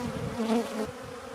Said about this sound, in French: on voit quelques abeilles qui se sont posées, qui sont en train de se réchauffer au soleil